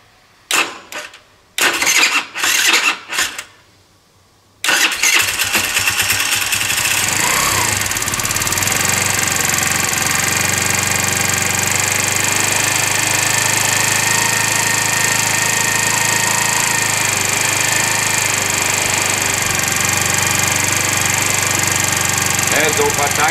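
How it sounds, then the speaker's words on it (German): A 50cc four-stroke scooter engine with a 90cc conversion cranks in several short stuttering bursts with silent gaps, then catches and runs at a loud, steady idle with a rattling buzz that continues to the end. "Wir machen den Motor an, damit sich das verteilt"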